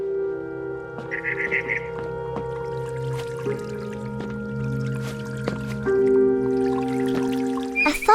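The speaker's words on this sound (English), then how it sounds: "Then I heard chirping outside my window." Barn swallow chirping outside a bedroom window in the game What Remains of Edith Finch: a brief burst of high bird twittering over a steady tonal game music bed with soft drips and clicks.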